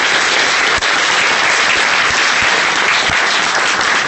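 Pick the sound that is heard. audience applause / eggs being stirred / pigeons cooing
audience applause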